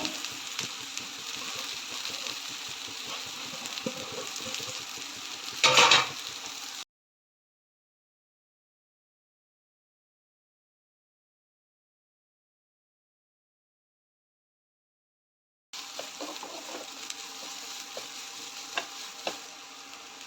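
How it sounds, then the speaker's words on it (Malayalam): Onion being stir-fried with tree spinach in a pan for a Kerala thoran makes a steady, moderate sizzle with scraping stirs. It breaks off into a long silence and then resumes. "സവാള ജസ്റ്റ് ഒരു 2 മിനിറ്റ് ഇളക്കി കഴിഞ്ഞ് കഴിഞ്ഞാൽ നമ്മൾ ചീര ഇട്ട് കൊടുക്കുകയാണ്"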